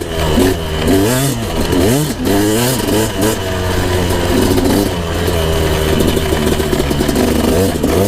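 A KTM 250SX dirt bike engine revs up and down close by on a desert ride, its loud two-stroke whine rising and falling in several sharp swells.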